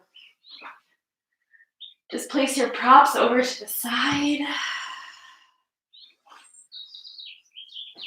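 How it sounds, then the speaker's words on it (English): Birds chirp and tweet in short bursts outside a window in springtime, faint and somewhat distant, with a calm voice speaking over them in the middle. "I hope you can all hear those beautiful birds outside my window."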